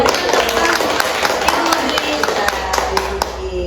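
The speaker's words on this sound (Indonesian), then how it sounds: "Kita baru tepuk tangan." Audience clapping at a school event in Indonesia, a steady patter of many hands heard close and fairly loud, with voices talking over it.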